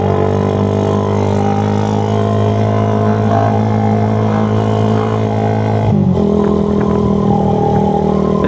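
A public Suzuki Satria F1 motorcycle runs loud and close as it's ridden escorting an ambulance, the engine droning steadily with a brief shift dip midway before climbing again.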